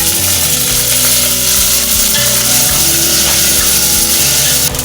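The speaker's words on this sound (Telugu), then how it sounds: "తాలింపు గింజలు కొంచెం వేగిన తర్వాత శుభ్రంగా కడుక్కున్న కరివేపాకు కూడా వేసుకోవాలి." Curry leaves and tempering seeds fry in hot oil, giving a loud, steady sizzle with crackles and popping throughout, close up and with no talking.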